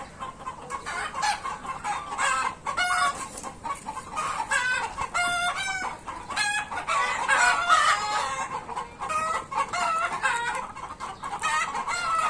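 A flock of chickens on a farm in Bahrain keeps up busy overlapping clucking and squawking close by for the whole stretch, with no talk.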